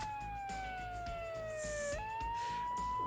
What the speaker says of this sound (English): And then the siren, like, hard cuts off.